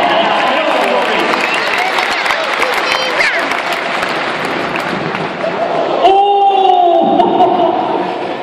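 A crowd cheering and applauding a rider at a 2014 FIM motorbike trials event in Sheffield, with loud sustained applause, a commentator talking over it, and a whistling tone near the end.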